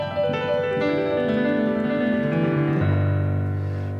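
A slip-note country pentatonic piano run played as a fast arpeggiated fill, with notes cascading downward in a smooth continuous flurry before settling onto a sustained low chord, loud and close with no talking.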